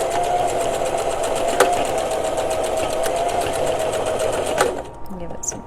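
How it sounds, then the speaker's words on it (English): A sewing machine runs a steady straight stitch back and forth across buckle webbing, a continuous close whirring hum that stops abruptly near the end. "I just do a straight stitch on this, and I'll sew back and forth a couple times."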